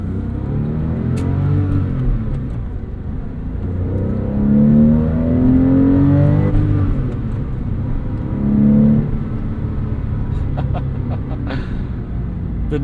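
A 2002 Porsche 911 engine accelerates through several gear changes, its loud, close-miked flat-six rising in pitch, easing off, then surging again.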